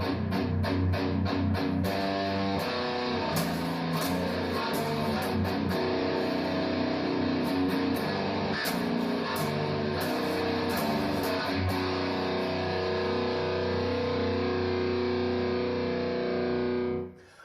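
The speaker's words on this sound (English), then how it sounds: "that is the warp drive with the other pedals mentioned" A heavily distorted electric guitar through a Stone Deaf Warp Drive pedal with slight modulation plays a thick, saturated metal riff continuously, loud and dense, with chords ringing until it cuts off at the end.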